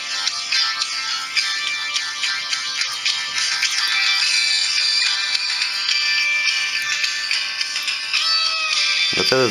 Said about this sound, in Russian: Вот этот рингтон, я, кстати, слышал